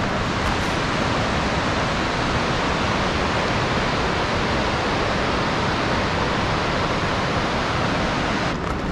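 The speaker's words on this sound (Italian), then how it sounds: "Qua sotto il canyon della cascata di Fannes e il salto è da questa parte" The Fanes waterfall in its canyon in the Fanes-Sennes-Braies Natural Park, heard as a loud, unbroken rushing roar of falling water that stays constant throughout.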